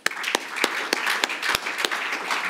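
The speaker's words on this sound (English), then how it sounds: "So please, a round of applause for the President of the International Science Council, Sir Peter Gluckman." An audience gives a round of applause for the President of the International Science Council: a dense, steady wash of clapping with a few sharp, close claps standing out, continuing throughout.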